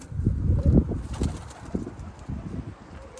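Tumbler pigeons flapping their wings in quick, irregular bursts of soft thumping flutter, close by, with a few faint coos and no talking.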